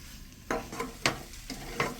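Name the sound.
stirring fried prawns and pointed gourd in a pan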